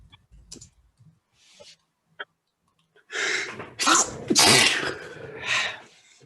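Several loud sneezes burst out in quick succession in the second half, close and sharp, after a few faint clicks and small noises in an otherwise quiet room.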